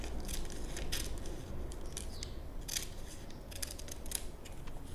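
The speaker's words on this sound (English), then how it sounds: "Now we cut out our pattern." Scissors cut out a paper pattern for a circle skirt: a run of quiet, crisp snips and rustles, close and fairly steady, over a low background hum.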